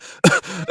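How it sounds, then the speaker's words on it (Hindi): A man coughs from black smoke pouring out of an opened biryani pot, a couple of short, close, harsh throat-clearing bursts. "मंत्री जी खांसने लगते हैं।"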